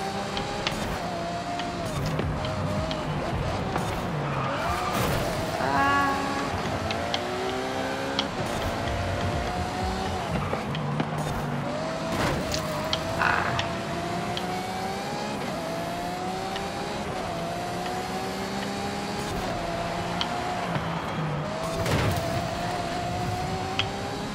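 Ferrari Monza SP2 race car engines in Forza Horizon 5 drone and rev continuously, with pitch sweeping up and down through gear changes, and a steady mechanical whine sitting underneath.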